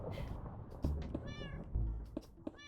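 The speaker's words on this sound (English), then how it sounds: "I like the cat noise when I place down the block." A cat meow sounds each time a block is placed in a video game, several short harmonic meows spread across the clip among soft thuds, with no talking.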